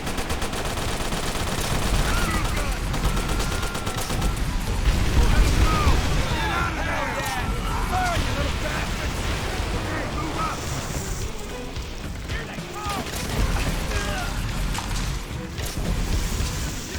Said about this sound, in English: Get that flamethrower on the bunker.